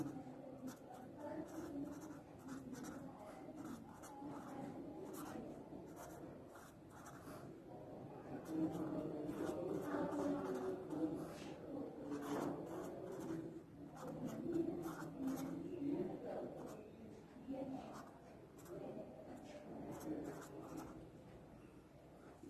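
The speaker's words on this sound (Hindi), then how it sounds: "इसको हम शॉर्ट करके लिख रहे हैं" Pen writing on paper during a genetics lecture, a soft continuous scratching and rubbing of strokes that runs through the whole stretch under quiet, low background sound.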